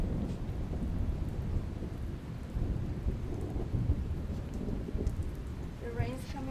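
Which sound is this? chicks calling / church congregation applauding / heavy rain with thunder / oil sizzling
heavy rain with thunder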